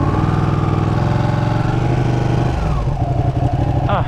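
A Ducati 959 Panigale motorcycle engine running steadily and loud up close, a smooth throbbing drone that shifts pitch slightly near the end, with a brief sharper rise at the close.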